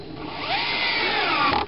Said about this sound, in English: I'll actually drill a third hole and use a third screw again